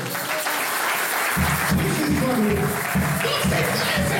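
A church congregation applauds in rhythmic, steady clapping that carries on throughout, with some crowd noise in the background.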